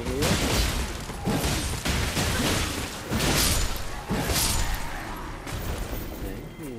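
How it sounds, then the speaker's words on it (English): Repeated booming blasts and crackling bursts from Elden Ring gameplay explore Elphael, Brace of the Haligtree, loud and dense, several strong hits spaced across the stretch with a continuous rumbling bed between them. "I've got explosions now, you hear?"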